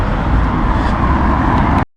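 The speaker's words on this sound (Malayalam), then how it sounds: "വണ്ടികളൊക്കെ ഒന്ന് പോയി." Cars pass along a road in Manchester, UK, making a steady, loud broadband roar of traffic that holds for nearly two seconds and then cuts off abruptly, with no talking.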